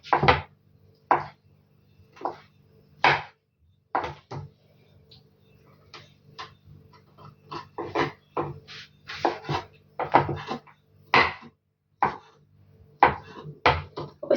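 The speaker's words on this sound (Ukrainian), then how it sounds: "Я постараюся нарізати його дуже тонесенькими смужечками." Cheese sliced into thin strips with a knife, a series of distinct sharp cuts on a board, irregular in rhythm, close and crisp against near silence.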